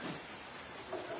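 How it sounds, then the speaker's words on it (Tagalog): Heavy rain pouring steadily at a morning walk in Daraga, Albay, a dense, broad hiss of falling water heard alone and continuous, fairly faint overall. "Ang lakas umuulan na."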